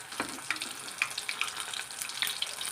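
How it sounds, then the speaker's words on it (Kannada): Capsicum bondas made with beaten rice fry in oil, giving a steady, moderate sizzle with scattered small bubbling pops throughout, with no voices. "ಬೇಗನೆ ಫ್ರೈ ಆಗುತ್ತೆ."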